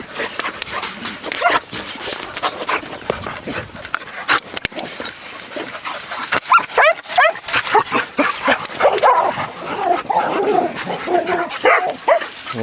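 Several dogs in training kennels for antler-hunting work bark, yip and whimper in overlapping bursts throughout, a busy chorus of close and farther voices.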